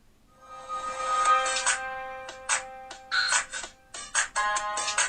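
The ringtone of a 2007 Eten Glofiish X800 Windows Mobile smartphone plays loudly and alone: a sustained electronic tone, then a run of short, choppy synthesized bursts in an uneven rhythm.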